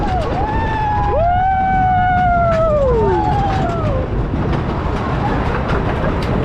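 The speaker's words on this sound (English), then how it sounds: "And another log flume." Log flume ride at Great Yarmouth Pleasure Beach, heard as a loud, steady rumble of boats and track with rising and falling squealing tones from the ride mechanism, continuous throughout.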